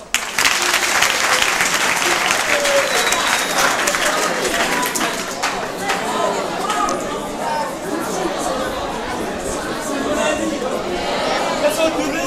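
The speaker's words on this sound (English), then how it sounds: "Give yourselves a round of applause" Sustained applause from a high school audience fills the space for the full stretch, steady and fairly loud, with crowd chatter and cheering mixed in throughout.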